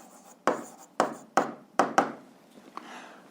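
A pen or pencil writes down answers on a Grade 8 physics self-assessment worksheet, making five sharp, close strokes and taps in a loose rhythm with quiet pauses and no talking.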